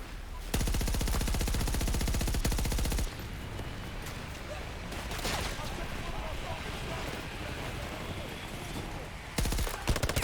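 Rapid automatic gunfire in Battlefield 2042, a loud sustained burst followed by a rumbling battlefield din and another short burst at the end, with some talk mixed in.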